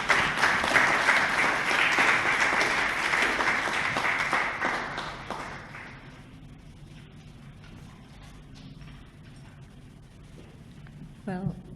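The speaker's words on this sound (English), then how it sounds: "Please give her a big round of applause." A conference audience gives a speaker a round of applause, a dense steady wash of clapping for about five seconds that fades away, leaving quiet room noise and brief faint sounds at the end.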